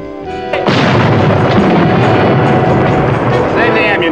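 Gunfire from a tank in an old radio-style adventure drama: a loud, dense burst of booming blasts that starts abruptly after a quiet moment and continues as sustained rumbling fire.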